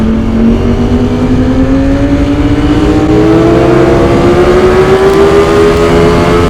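A 2024 Ducati Streetfighter V4S motorcycle revs loudly while being ridden, its engine note climbing steadily in a strong, close, continuous pitch rise with no talk over it.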